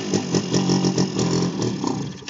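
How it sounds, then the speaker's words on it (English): A 2006 Eton 90cc engine with an ignition fault revs high in a steady, loud, buzzing drone, with rapid pulsing fluctuations in pitch across the whole stretch. "It revs really high"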